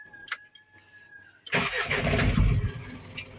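An Isuzu fire truck's engine is cranked and starts after a quiet stretch with a faint electronic tone, then settles into a loud, rough, close idle rumble.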